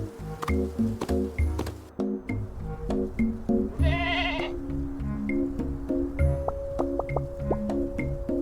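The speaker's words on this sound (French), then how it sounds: "Je remonte, et là, il y a une chèvre." Goat in a game world, bleating in a repeated, wavering call amid dripping, squishy sound effects and a steady tonal game music loop, moderately loud and close.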